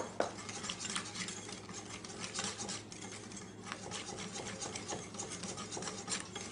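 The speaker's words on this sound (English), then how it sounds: "Whisk it in." Flour is whisked into milk for crepe batter in a bowl, a soft, rapid, continuous rasping and scraping close by, fairly quiet with slight pulses, no speech.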